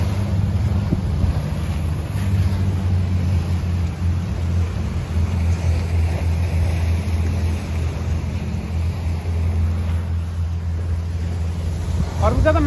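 A boat travels on the water off Sydney, giving a loud, steady rumble of engine and wind with water washing along the hull throughout, close and unbroken.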